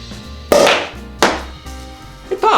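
Two sharp, loud pops sound up close, each followed by a quick hiss and fizz, with a smaller clink at the end. They fit a champagne bottle being opened at a home bar while making a Seelbach cocktail.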